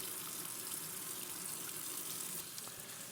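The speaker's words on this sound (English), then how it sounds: "Let me wash my hands." Tap water runs steadily over hands at a kitchen sink, a continuous hiss with no talk.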